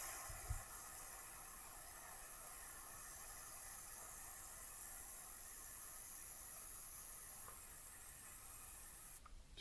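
Steam hissing onto a dent under a longer hold of heat, a steady broadband hiss lasting throughout, even and continuous with no talk.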